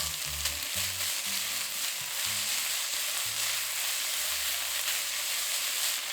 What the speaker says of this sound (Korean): 미역줄기 넣고 볶아줍니다.